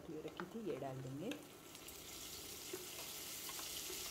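Mixed vegetables with broccoli frying in a pan for a restaurant-style sabzi, a steady soft sizzle throughout with a brief stirring clatter and a voice early on.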